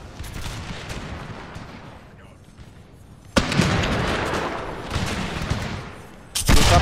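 Cannons fire canister shot during a Spain versus France battle in Total War: Pike and Shot, with sharp, loud volleys cracking out and rolling into a lingering rumble of gunfire, under a player's voice.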